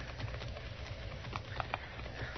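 Horse hooves clip-clop at an unhurried pace in an old Western radio drama, a muffled rhythmic patter at moderate distance over a steady low background rumble, with no voices.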